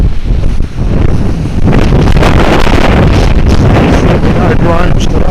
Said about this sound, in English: man, is it windy today.